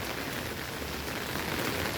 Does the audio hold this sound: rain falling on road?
yes